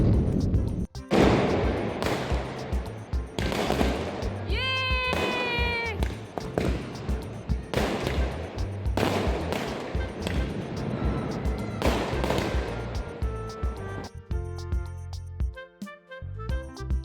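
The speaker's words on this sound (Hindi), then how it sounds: "पटाखा हो सकता है वो" Repeated sharp bangs and crackling bursts of Diwali fireworks outside a housing society, with a high whistling spinning wheel firework (chakri) rising through the middle and steady popping throughout.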